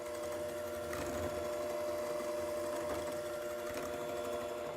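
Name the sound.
electric mixer mixing red velvet cupcake batter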